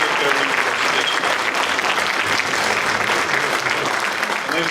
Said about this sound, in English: a round of applause for our state senate candidate in the 31st district